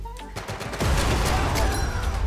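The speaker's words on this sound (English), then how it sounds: "they started shooting" Rapid gunfire erupts in the Medal of Honor VR shooter game, starting with a few sharp shots and then swelling into a dense, loud, continuous volley of overlapping bursts.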